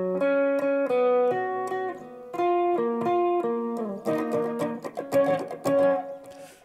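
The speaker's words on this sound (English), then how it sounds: "the lead parts on the pre-chorus, which sounds like this" Electric lead guitar plays the pre-chorus line of a song, a run of clean, sustained picked notes in steady rhythm, phrases repeating with a slight bend toward the end, heard alone and close.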